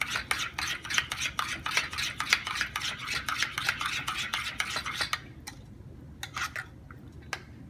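Cucumber raita with whole cumin stirred in a bowl, a rapid run of crisp clinking spoon strokes for about five seconds, then a few scattered taps, close and without talk.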